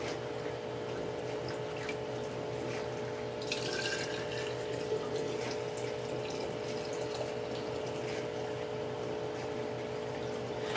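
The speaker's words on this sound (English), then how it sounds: "we're just going to fill our jars with the broth" Hot chicken broth pours steadily into sanitized, hot canning jars for pressure canning, a continuous liquid rush lasting throughout with a brief splashier burst partway, close and moderately loud, no talking.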